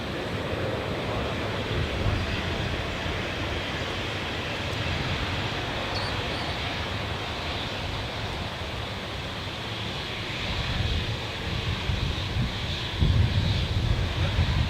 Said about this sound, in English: got a Embraer E190 just lining up